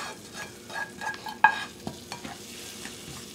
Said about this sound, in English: we're going to take our graham crackers and we're just going to move everything into that butter